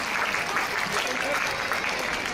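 Brief burst of audience applause at a Hindi poetry recital of a song about mother, dense steady clapping filling the whole moment without a break.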